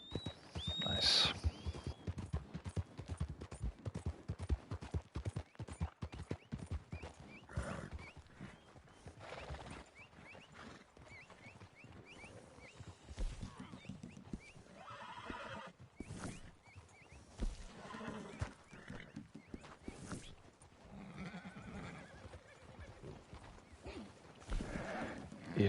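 Horses in Red Dead Redemption 2 Online clip-clop with a steady rapid hoof patter, and a brief neigh comes near the start, all under ongoing game noise and voices.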